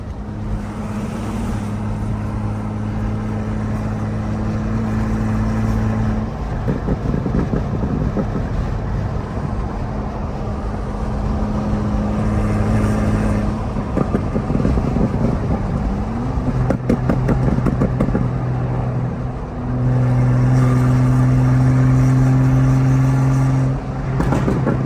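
A big-turbo BMW M535i engine drones steadily while cruising in seventh gear, a loud continuous in-cabin hum with sustained low tones that rise and settle over about twenty-five seconds, with no talking.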